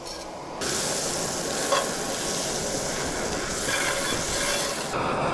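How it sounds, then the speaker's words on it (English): Butter melts and sizzles in a hot pan alongside cockles, a steady broadband hiss with faint crackles and soft scraping, continuous and fairly close throughout with no voices. "we're gonna melt that butter down on here"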